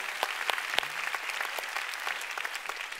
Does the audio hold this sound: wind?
no